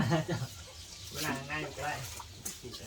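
A chicken clucks in short, soft bursts nearby while people talk over it.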